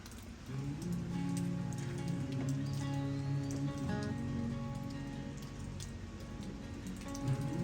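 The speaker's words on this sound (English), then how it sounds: "I just love listening to the rain." Steady rain falls outdoors during a stormy spell, a dense, even patter on surfaces close by that keeps up the whole time with no voices.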